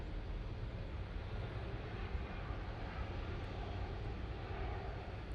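A departing airliner at Manchester Airport roars as a steady, broad jet-engine rumble, heard from a distance and holding constant for several seconds with no voices.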